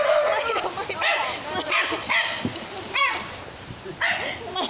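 A small dog yips and barks excitedly on meeting its owner near an onsen in Yamagata, Japan, high-pitched repeated barks mixed with someone talking close by.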